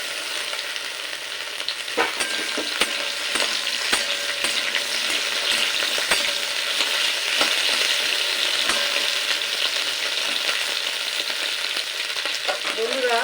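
Chopped okra fries in a pan of hot oil tempered with black mustard seeds, a continuous close sizzle punctuated by the sharp scrapes and taps of a spatula stirring.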